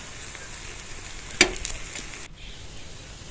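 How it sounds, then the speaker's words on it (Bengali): Pumpkin leaf rolls fry steadily in oil over medium-low heat, giving a continuous close sizzle with one brief louder crackle partway through before the sound softens. "উল্টে পাল্টে রোলগুলো 4 থেকে 5 মিনিট ভেজে নেব মিডিয়াম থেকে লো আঁচে"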